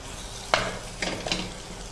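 Spiced potato filling for aloo paratha being stirred and mashed in a pan, with a few scraping strokes over a faint steady sizzle, close and fairly quiet, no talk.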